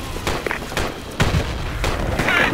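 Grenades go off in a combat game as a series of dull booms and bursts that rise and fall over a constant rumbling backdrop.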